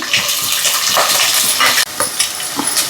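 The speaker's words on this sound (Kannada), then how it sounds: "ಕರಿಬೇವು ಹಾಕ್ತಾಯಿದ್ದೀನಿ, ಹಸಿಮೆಣ್ಸಿನ್ಕಾಯಿ ಹಾಕ್ತಾಯಿದ್ದೀನಿ, ಈರುಳ್ಳಿ ಹಾಕ್ತಾಯಿದ್ದೀನಿ" Curry leaves, green chillies and onion dropped into hot oil for a tempering while making avarekai rice upma, giving a loud close spitting sizzle with clatter and stirring bumps and a brief break near the middle.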